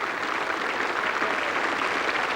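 Cricket crowd at Trent Bridge applauding a batsman during an England versus West Indies Test match, a steady, even wash of distant clapping with no talk.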